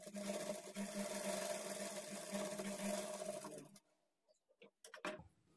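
A sewing machine stitches a dart on a plain blouse, a steady close buzzing whir for several seconds, then halts, followed by a few soft handling clicks and taps.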